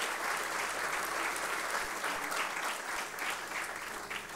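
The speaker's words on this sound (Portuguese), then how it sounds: "para quem eu peço uma salva de palmas" Steady applause from an audience at a formal induction ceremony, a dense, even wash of clapping heard at moderate volume throughout.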